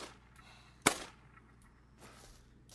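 A single sharp rifle shot cracks out at a turkey in theHunter: Call of the Wild, one loud crack amid quiet outdoor ambience with faint rustles.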